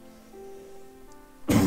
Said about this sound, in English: I had to get that cough out.